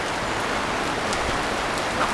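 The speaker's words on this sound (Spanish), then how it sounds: "Y ya vuelve la lluvia, a esperar a que vuelva a pasar la lluvia." Steady tropical rain pouring in American Samoa, a dense, even hiss of drops on surfaces that holds at a constant level throughout, with no voices.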